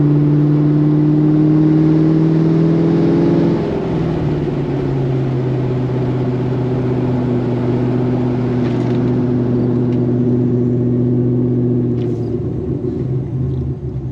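A car with a $4,000 brake upgrade accelerates before a 60-to-0 mph braking test: a steady, loud engine drone and road rumble whose pitch drops and settles partway through, with no talking.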